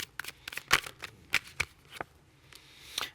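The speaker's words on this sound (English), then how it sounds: "we're about to pull some cards for her right before we start doing her foundation" Tarot cards being shuffled and drawn by hand, a series of crisp riffling and snapping bursts with short pauses between, close and fairly quiet, no talking.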